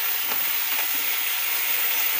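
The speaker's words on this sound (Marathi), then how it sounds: "याही मी याप्रमाणे परतवून घेत आहे।" Ground green chillies and curry leaves sautéing in hot oil give a steady, close, loud sizzle that holds without a break, with no talking.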